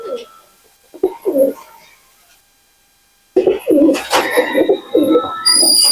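Breeding pigeons, including a male, coo in low throaty bursts close by, a few calls early, then a near-silent pause, then a louder, busier run of overlapping coos with chirps and rustling.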